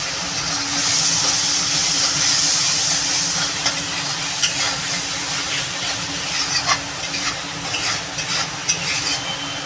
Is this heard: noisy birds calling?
no